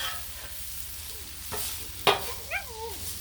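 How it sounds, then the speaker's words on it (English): Chicken and vegetables sizzling on a Blackstone griddle as they are stirred, a soft steady frying hiss with a few scraping spatula strokes and clinks, and a dog's whine near the end. "Let's stir this up a little."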